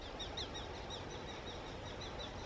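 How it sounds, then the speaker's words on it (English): Small birds chirp and tweet repeatedly in quick bursts near a tree by the River Avon, light high calls over a steady outdoor background hiss. "That's what the birds were on about."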